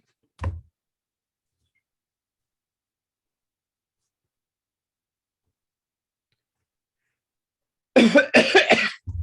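A single short cough near the start, then a long silence before a brief burst of coughing at the end.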